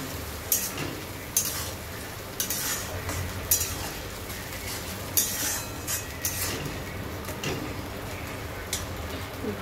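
Ginger, garlic, tomato and green chili sautéing in a pan make a continuous close sizzle, broken by frequent sharp clacks and scrapes of a spatula stirring at an uneven rhythm.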